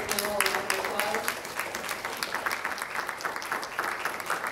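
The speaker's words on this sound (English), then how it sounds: "Let's give our distinguished panel a round of applause." Audience applauding a distinguished panel at the close of a water-sector conference session, a dense, steady patter of many hands clapping through the whole stretch, with a brief voice at the start.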